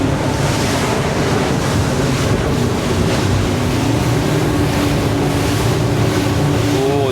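An E-Motion 36 motorboat powering through a tight turn on open water, with a loud steady engine hum under constant rushing spray, wave slap and heavy wind buffeting.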